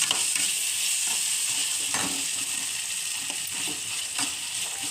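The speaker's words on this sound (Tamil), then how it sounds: "இது பீன்ஸு இதெல்லாம் போட்டு செஞ்சோம்னா இன்னும் டேஸ்ட்டாக இருக்கும். நல்லா வணக்கி விட்டுக்கிறேன்." Beans and vegetables stir-fried in a pan for poha, a constant loud sizzle with occasional scraping stirs of a spoon, no talking.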